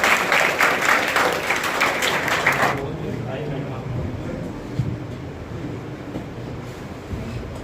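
Audience applause for students selected into the UP Police at an academy ceremony, dense clapping for the first few seconds that stops abruptly, followed by quieter room noise and faint murmuring.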